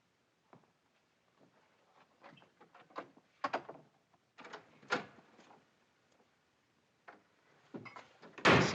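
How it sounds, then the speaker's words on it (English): Doors bang and thud repeatedly in an old 1946 Western film scene, a series of irregular knocks and slams building to a loud final crash, with faint background movement. "Stop slamming doors."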